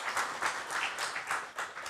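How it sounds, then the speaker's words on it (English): Warm audience applause welcoming a speaker on stage at a career talk, a steady patter of many hands clapping at moderate distance, quiet and even throughout. "give a lovely warm round of applause to our next speaker"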